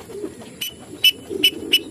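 Pigeons nearby give soft low cooing with a few brief sharp chirps over faint background rustle.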